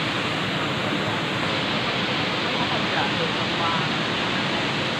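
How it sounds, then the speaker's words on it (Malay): A waterfall near kampung Pungki in Aceh pours with a dense, constant roar heard up close, filling the whole stretch evenly without a break. "Ini air terjunnya"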